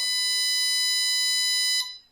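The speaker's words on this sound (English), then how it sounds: "you can hear the alarm because something is moving" Motion detector alarm triggered by a radar module on a Unity board, sounding as a loud continuous high-pitched electronic tone that holds steadily and then cuts off abruptly near the end.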